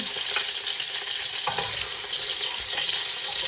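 Garlic sautéing in a hot pan makes a loud, steady sizzle throughout, with a few stirring scrapes on top and no talking.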